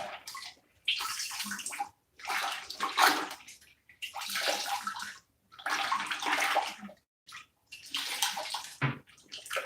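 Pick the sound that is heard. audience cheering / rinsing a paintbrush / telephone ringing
rinsing a paintbrush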